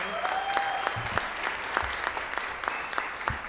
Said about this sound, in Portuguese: Um salve de palmas!